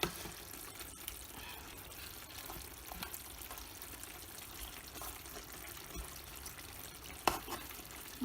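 Rohu fish pieces are gently turned over in a simmering potato and fish curry, giving a soft, steady bubbling and faint sizzle with a few light utensil taps, quiet and continuous with no talk.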